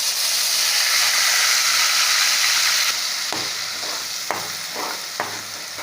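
Chopped onions sizzle in hot masala for an egg gravy: a loud, steady hiss of frying fills the first half, then eases into softer sizzling broken by a few sharp stirring scrapes and clicks.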